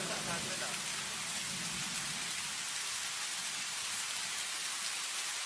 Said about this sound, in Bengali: সেই যে সকাল থেকে বৃষ্টি শুরু হয়েছে, এখনো থামার কোনো নাম নেই।